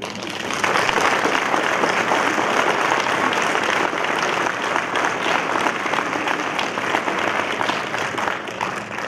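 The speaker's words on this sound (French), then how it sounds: "Je pense qu'on peut l'applaudir." Sustained applause from an audience at a New Year's greetings event, steady clapping that continues for several seconds before tapering slightly.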